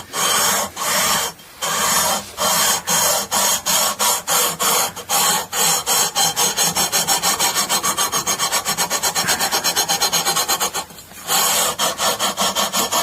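A sanding beam rasps across a bass guitar nut on a Chapman ML-2 Gold Top, in quick repeated back-and-forth strokes that are loud and close, with a short pause near the end.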